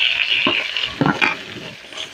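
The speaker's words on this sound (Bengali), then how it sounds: "পেঁয়াজটাকে আমি ভালো করে ভেজে নিচ্ছি।" Onions fry in oil in a pan that previously held fried fish heads, a soft hiss running under a few scraping spatula strokes, close by and without speech.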